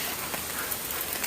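Steady rain falls on surfaces outdoors during a walk at the Legok Sari tourist site near Magelang, a dense continuous hiss of drops with no talk.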